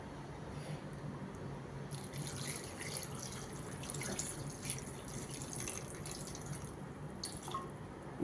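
Water poured into a pan of tomatoes and sautéed masala for a prawn curry makes a continuous, fairly soft splashing and trickling rush that lasts throughout.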